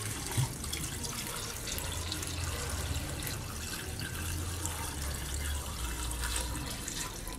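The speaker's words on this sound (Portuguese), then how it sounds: "Aqui eu vou colocar água." Water pours steadily into a cooking pot on a kitchen stove, a close, continuous splashing stream without pause and no talk over it.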